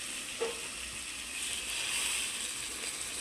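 Curd is stirred into a sizzling paneer curry in a hot pan, giving a steady frying hiss with a brief scrape of the spoon, close and fairly quiet.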